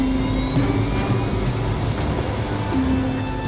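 Jet engines of a Boeing 747, Japan Air Lines Flight 123, being run up in power, heard as a steady loud roar with a high whine rising slowly in pitch throughout.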